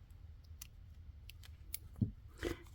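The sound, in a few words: scissors making a small cut in sewn fabric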